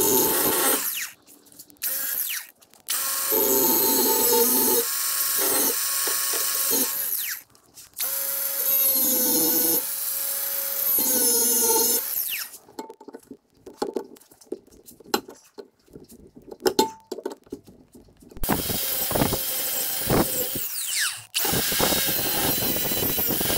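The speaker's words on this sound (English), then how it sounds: "Alright, so what I did there was I took my cutoff wheel" Cutoff wheel grinding notches into a metal bracket for a work table, in long loud bursts of harsh, high abrasive whine broken by pauses and clanks of metal being handled nearby.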